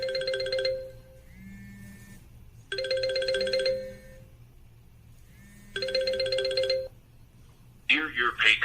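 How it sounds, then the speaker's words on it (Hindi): A mobile phone rings with an incoming call: a repeating electronic ringtone in three separate bursts with short pauses between them, close and clear, followed at the end by a brief recorded voice. "आप देख सकते हैं मेरे मोबाइल पर फ़ोन आ गया"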